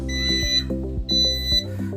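An AC automatic change-over unit's alarm indicator sounds loud, repeated electronic beeps in a regular pattern, each a sustained harsh tone with a shrill high overtone.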